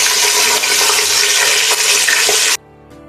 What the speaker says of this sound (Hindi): इसमें हम चिकन डालते हैं।